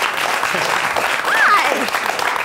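A small live studio audience of about fifty people applauds a guest. The clapping is steady and lively, with a cheer rising in the middle, and a voice briefly speaks a greeting over it.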